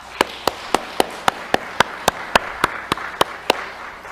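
A Korean church congregation at a Vancouver service applauds in a slow, steady rhythmic clap of about fourteen evenly spaced beats, crisp and moderately near over a soft room murmur.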